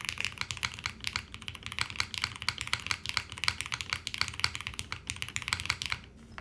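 Steady typing on a Matrix MRTAXI mechanical keyboard fitted with a full plate, close and crisp rapid clacks in an uneven rhythm that stops near the end.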